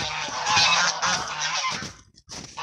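A flock of geese honks loudly and continuously at close range outdoors at a bird-keeping yard, overlapping calls forming a dense clamor that briefly drops out before resuming.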